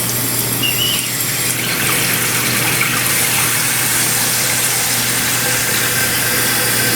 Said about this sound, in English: We have water filling into the tube.